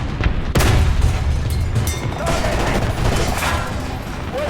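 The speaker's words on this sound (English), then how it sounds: "I dropped a bomb on them" Heavy bomb blast in the War Thunder combat game, a sudden loud boom followed by sustained rumbling roar and crackling debris over several seconds.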